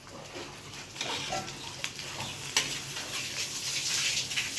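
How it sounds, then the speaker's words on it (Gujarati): Tomatoes go into hot spiced oil tempering in a pan for a Gujarati lunch, setting off a steady, close broadband sizzle that hisses continuously with small crackling spikes. "હવે જો આમાં ટમેટા નાખીશ"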